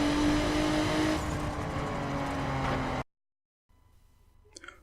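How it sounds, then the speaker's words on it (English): A Nissan GT-R sports car on a fast lap of a track, its engine a loud, close roar for three seconds before cutting abruptly to near silence, followed by faint, scattered noise. "Oh my goodness, the Nissan GT-R, it feels like a fast lap."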